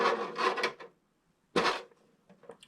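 Marker tip dragging across plastic film, two bursts of squeaky rasping strokes separated by a short pause, close and moderately loud.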